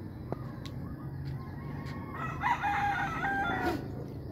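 A rooster crows nearby, a drawn-out call rising over quieter clucking and background ambience.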